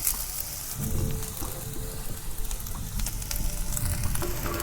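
Wild leafy greens tossed into onions frying in a pan, giving a loud, continuous close-up sizzle with crackling and light stirring noises.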